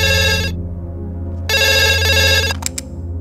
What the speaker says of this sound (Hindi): हेलो, अमित को फोन दो।